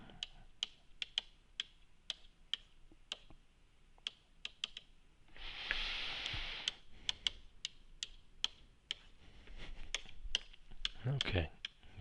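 Calculator keys are pressed in a sparse, uneven series of sharp little clicks, close by, with a stretch of soft rustling and faint background sound between them.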